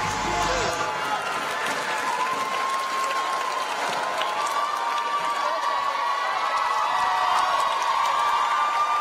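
A packed crowd at a high school Turkey Day pep rally applauds and cheers steadily, a dense, loud wash of clapping and whoops with voices mixed in throughout.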